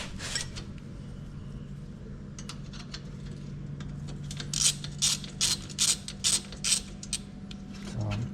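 Ratchet clicking as a 12 mm Allen socket on a ratchet loosens a bolt on a Yamaha Blaster oil pump; several quick bursts of close, crisp pawl clicks over a low background hum.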